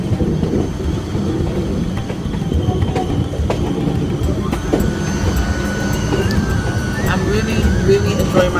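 An Indian passenger train travels toward Varanasi, its rolling carriage giving a continuous loud rumble with occasional clicks and faint wheel squeals, as people talk nearby.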